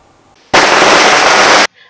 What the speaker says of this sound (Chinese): 伴随着鞭炮声，瑞穗乡农会理事长罗文腾、常务监事杨清茂为这一次制茶技术比赛的得奖者贴红榜庆贺